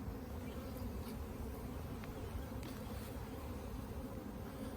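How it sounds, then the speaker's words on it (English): Honey bees buzzing around an open hive during a spring inspection, with a loud drone bee among them, making a continuous close, dense hum that swells slightly as insects pass near, with no voices. "Drones are extra loud"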